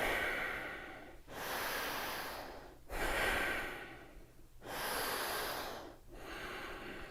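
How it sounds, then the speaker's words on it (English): Slow, deep breaths during a yoga session, several long audible inhales and exhales alternating in a steady rhythm, close and fairly soft, with no talking. "Take a breath."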